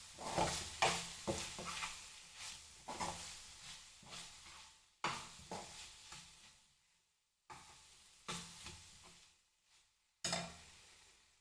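A spoon stirs a sabudana and potato mixture frying in a pan, with repeated scraping strokes in an irregular rhythm and a light sizzle underneath, close and moderately loud with short pauses between stirs.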